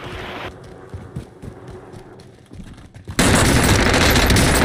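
Rapid automatic gunfire from a video game, with bursts of shots crackling in the mix, then a sudden loud, dense blast of sustained fire filling the final stretch.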